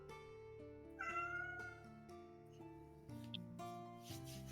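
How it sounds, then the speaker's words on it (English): A house cat meows a few times, the calls rising and falling in pitch, close by and clear over steady background music. "just hear Nala's meowing"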